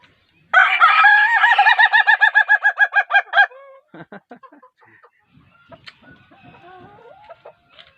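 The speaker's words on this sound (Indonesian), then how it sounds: "Ayam ketawa." A loud ayam ketawa laughing chicken crow with a long, rapid pulsing, cackling rhythm like laughter, followed by quieter clucks and chatter from nearby birds.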